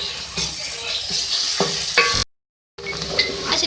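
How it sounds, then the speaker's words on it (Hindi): Onions sizzle in hot oil with ginger garlic paste for a Punjabi chicken dish while a spoon stirs and scrapes the pan. A brief silent gap breaks the steady frying. "इसके साथ हम इसको भी फ्राई करेंगे।"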